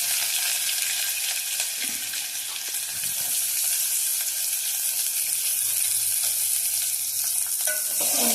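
Mustard seeds and curry leaves frying in hot oil for a palya, a steady broadband sizzle with faint crackles and stirring scrapes throughout, no voices.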